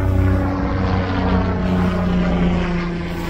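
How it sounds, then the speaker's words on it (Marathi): Helicopter rotors run in the morning at the Kedarnath helipad in the mountains, a steady, loud droning whir that continues throughout without voices. "हेलिकॉप्टरच्या सकाळी सकाळी चक्रा चालू झाल्या बघा."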